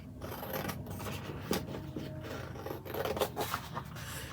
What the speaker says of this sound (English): And then we're going to trim it. We're going to use scissors